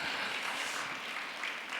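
Applause fills a room at a church blessing ceremony for member families, a steady, dense wash of clapping that holds at an even level for its short length.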